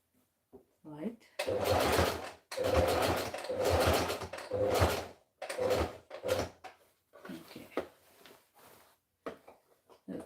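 A sewing machine stitches fabric in bursts of steady mechanical whirring, starting and stopping several times, close by, with a person talking between runs.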